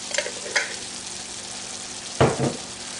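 Salsa stirred into a sizzling pan of taco pasta, a steady frying hiss broken by two loud scraping stir strokes near the start and another pair later, close and clear.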